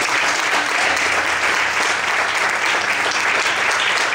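A church congregation claps steadily during a sermon, a thick, even wash of applause filling the room at constant loudness for the whole stretch.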